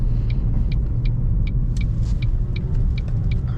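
A car running on premium fuel rumbles steadily at low pitch while driving, with a continuous road drone and a series of faint, evenly spaced ticks or clicks over it, and no talking.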